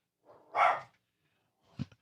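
A dog barks inside a radio talk-show studio: one loud, rough bark, then a shorter, sharper one a moment later. The barks are close to the microphone, with quiet between them.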